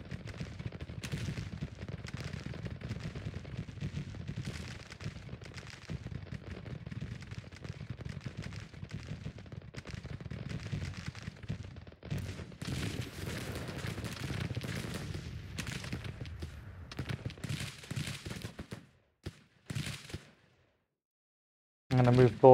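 Artillery and musket fire rattle across a Civil War battlefield in the strategy game Grand Tactician: The Civil War, a long stretch of dense crackling shots and booms that thins into scattered bursts before falling silent near the end.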